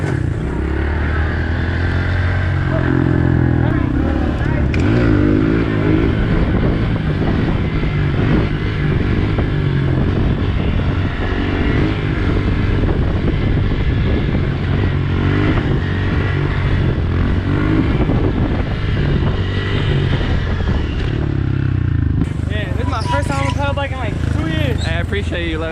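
A dirt bike rides through New York City streets, its engine roaring loudly and continuously up close with revving swells, wind buffeting and road clatter. Excited voices talk over the engine throughout.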